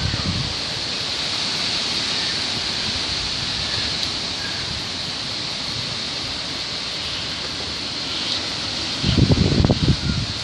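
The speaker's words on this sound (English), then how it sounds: "We got wind from several different directions." Wind blows steadily outdoors on a street before a storm, a broad, loud rushing roar that runs throughout and gusts harder near the end.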